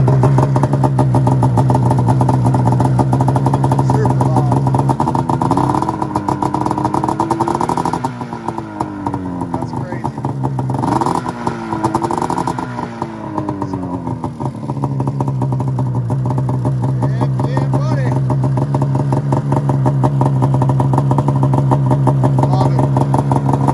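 Motorcycle with a newly fitted MBRP exhaust can, on a 2006 model, idling loud and close with a rough clattering rumble and several revs that rise and fall in the middle.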